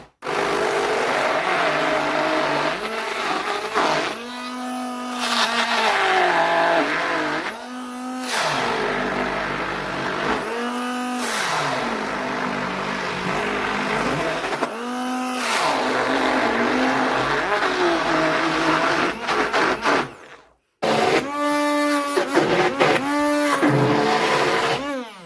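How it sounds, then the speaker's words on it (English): A Daewoo hand blender chopping cooked lentils for lentil burgers, loud whining motor in repeated bursts that rise and fall with short pauses between pulses, no talk. "now it's time for our Daewoo hand blender"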